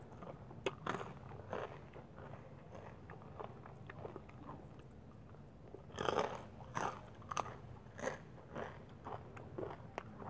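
Crunchy bites and chewing of spicy Thai som tam papaya salad, quiet and close, with irregular crisp crunches and soft mouth sounds building to louder bursts.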